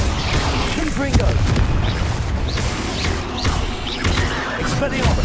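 A Confringo fire spell explodes in Hogwarts Legacy, heavy booming blasts and crackling impacts mixed with combat effects, with spoken voices over the top throughout.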